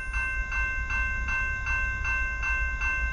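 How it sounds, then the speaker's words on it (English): A westbound CSX freight train rolls steadily past on the former Conrail Lehigh Line, with a rhythmic clatter of wheels on rail joints and a low rumble, fairly loud and continuous. "We got a CSX westbound, track one."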